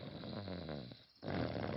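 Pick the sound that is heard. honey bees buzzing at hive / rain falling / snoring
snoring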